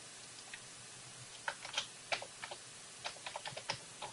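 Keys on a computer keyboard clatter in short, irregular bursts of quiet clicks as a label is typed, with a soft background hiss and no talking.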